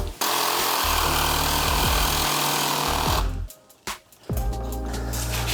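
A loud power tool cuts out parts on a Toyota 4Runner during a 35-inch tire install, running continuously and then stopping and restarting in short bursts near the end.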